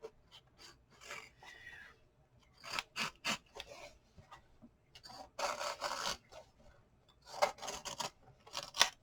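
Short scraping, rasping strokes as a fresh knife blade slices through a junk journal cover, coming in irregular bursts with quiet gaps between them, close and fairly soft.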